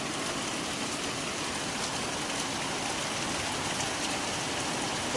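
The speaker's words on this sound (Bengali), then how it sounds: "ভীষণ বৃষ্টি হচ্ছে।" Heavy rain pours down outside a window beside a broken wall next door, a dense, unbroken roar of water that stays loud and even throughout with no voices.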